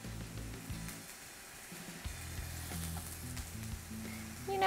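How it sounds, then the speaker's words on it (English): Eggplant pieces sizzle in hot oil in a pan, a soft continuous crackle close by with faint stirring clatter and no voices. "So now I'm going to add in my eggplant. And you can hear that nice little sizzle."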